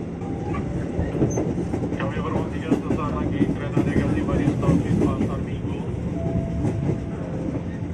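An eight-car KRL Commuter Line electric train bound for Jatinegara rolls along at speed, with a loud continuous rumble and rhythmic clickety-clack of wheels, and faint voices inside the carriage.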